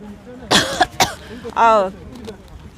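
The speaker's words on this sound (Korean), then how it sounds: "좀 소리를 지르면은 막 기침이 납니다." A man coughs a few times in quick, rough bursts, close and fairly loud, with brief throat-clearing between.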